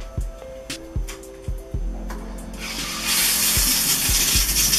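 An LED disco shower head that flashes random colors starts spraying water partway through, a steady loud hiss that follows a few soft knocks and clicks, with no talking.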